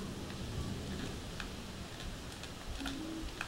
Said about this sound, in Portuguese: Chuva. Eu gosto de chuva,